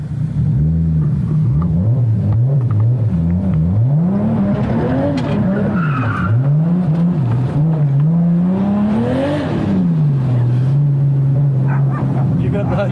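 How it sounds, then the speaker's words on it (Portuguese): A Toyota Supra's 2JZ engine, tuned to 600 hp, revs up and down repeatedly, rising and falling in pitch, loud and close, before settling into a steady idle, with voices nearby. "Surreal poder andar nesse carro, poder escutar esse barulho. Surreal, esse é o 2JZ."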